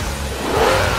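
A Bentley Continental GT engine revs up, its loud, smooth roar rising in pitch and intensity over a single second with no voices.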